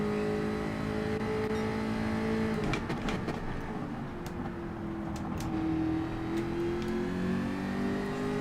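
Race car engines roar steadily in Gran Turismo 7 during a Group 4 daily race at Interlagos, Brazil, with a continuous loud drone and pitch shifting as the cars rev and shift gears, with no talking.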